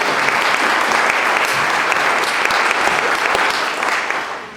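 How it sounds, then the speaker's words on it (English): Sustained audience applause at a screening of the documentary Honor Diaries in London, Ontario, a dense, steady wash of clapping from many hands that holds loud and even for the whole stretch, easing slightly near the end. "I think we all owe them a round of applause for making this evening happen."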